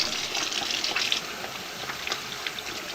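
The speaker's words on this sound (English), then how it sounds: "Wash your hands, keep them clean, and away from your face." Hands wash under a running tap in a steady, close gush of water with small splashy shifts as the hands move through the stream.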